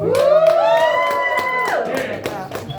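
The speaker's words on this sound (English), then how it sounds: "keep it going for our ring bearers as well. Big round of applause" Guests at a wedding cheer, whoop and clap for the ring bearers. The loud, close crowd noise is full of excited shouting voices, with scattered claps mixed in.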